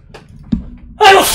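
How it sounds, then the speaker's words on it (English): A half-stifled sneeze from a person with allergies, a short nasal burst near 0.5 s followed by a louder breathy, noisy exhalation toward the end, close and indoors. "sorry, I'm like half sneezing."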